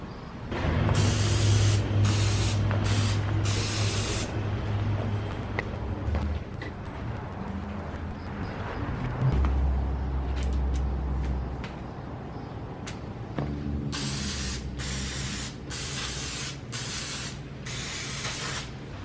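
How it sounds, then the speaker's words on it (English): Brake clean degreaser sprays from an aerosol can onto an E30 BMW brake caliper in repeated short hissing bursts, several quick spurts at the start and again at the end, close and loud. "we're going to have to degrease it with a can of brake clean before we paint"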